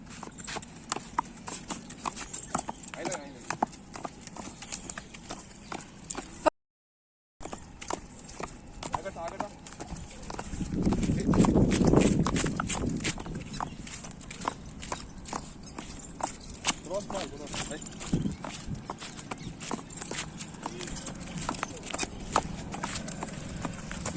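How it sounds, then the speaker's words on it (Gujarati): A mare walks on foot, her hooves clip-clopping in a steady rhythm close by. Voices talk throughout, and a short silent gap breaks the sound partway. "તમને બતાવી કેવી રીતે હાલે છે આ ઘોડી"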